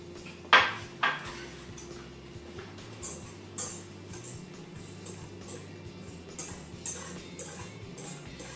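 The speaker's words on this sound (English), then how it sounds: "Next, you're going to whisk your sugar and flour." Sugar and flour are whisked in a bowl for lemon bars, making a quiet run of light metallic ticks and clinks that repeats in loose rhythm, with a couple of sharper knocks near the start.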